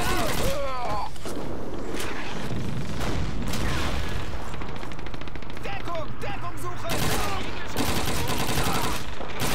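Battle in the video game Call of Duty 2 at Toujane, with steady machine-gun and rifle fire and grenade booms. Someone talks over the constant loud combat noise.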